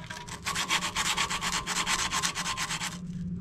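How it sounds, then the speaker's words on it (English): Sandpaper rubs by hand on a copper refrigerant line of a McQuay water source heat pump, making quick, rhythmic scratchy strokes, about a dozen in a row, close and fairly quiet before stopping. "I'm just gonna sand down this area with a little sandpaper"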